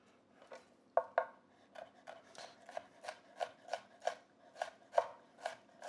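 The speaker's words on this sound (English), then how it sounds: "And so we're just gonna keep on chopping." A knife chops vegetables for a Cajun jambalaya in a steady run of crisp, close, rhythmic strikes against a cutting board, roughly a dozen in quick succession with no one talking.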